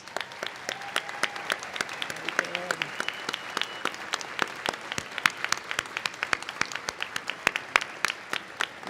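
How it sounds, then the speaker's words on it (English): At a fall college commencement ceremony, the audience applauds honor society graduates as they stand. The sound is a moderately quiet, somewhat distant spread of hand claps with distinct individual slaps, continuing steadily for several seconds. "let's give them a round of applause"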